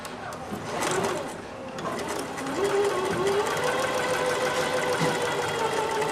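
A sewing machine runs continuously while stitching quilt squares, its close mechanical whir holding steady and growing slightly louder and faster partway through, with no clear talk.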